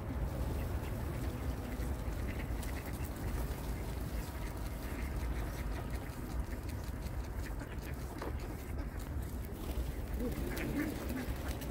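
Ducks quacking in Globa Park in Dnipro, scattered calls rising over a steady outdoor murmur with faint voices and background noise throughout.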